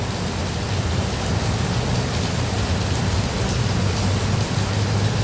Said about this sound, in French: Allez, il pleut vraiment, hein.